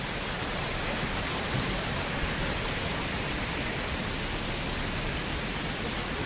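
A waterfall in Jim Corbett National Park gives a steady, dense rushing roar that fills the whole stretch evenly, with no breaks and no voices.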